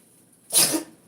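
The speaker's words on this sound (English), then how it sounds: "I'm about to sneeze." A single close sneeze, one short sharp burst of breath after a quiet moment.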